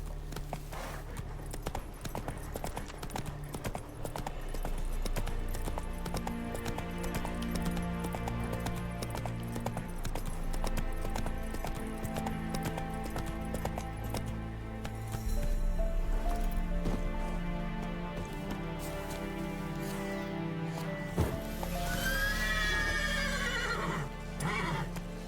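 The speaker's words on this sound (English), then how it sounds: "Roach, why are you freaking out?" Horse in The Witcher 3 video game galloping with rhythmic hoofbeats under game music, then neighing loudly near the end.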